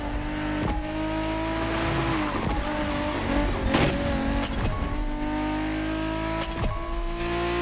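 A BMW Z4 M40i roadster engine in the racing game The Crew drones steadily, rising and falling in pitch with revs through gear changes, loud and close.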